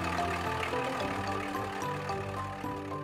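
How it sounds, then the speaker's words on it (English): A cartoon hovercraft engine runs with its air cushion inflated, giving a steady, even mechanical hum with a low droning tone that holds unchanged throughout, with no talk. "The engine's on, and the air cushion is inflated."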